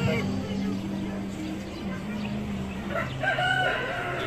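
A rooster crows among ducks and chickens at a petting zoo in Gunung Lang, Perak, the call fairly clear but mixed with background voices and bird noise.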